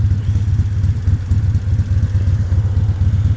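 Harley-Davidson motorcycle engine on an evening ride, a deep, loud rumble with rhythmic pulsing as the throttle is blipped, close and alone without talk.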